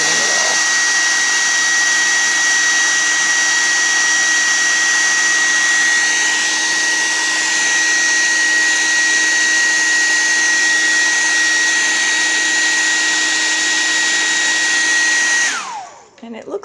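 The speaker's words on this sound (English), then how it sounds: "just the hair dryer itself has flattened it out nicely" A hair dryer blows loudly and steadily with a constant high whine, then switches off abruptly at the end.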